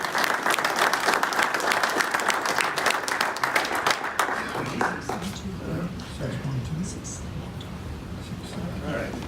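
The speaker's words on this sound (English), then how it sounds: "if we could have a round of applause for Eric" Round of applause from an audience at a presentation, brisk and fairly loud for about four seconds, then tapering into a few scattered claps, rustling and low murmured voices.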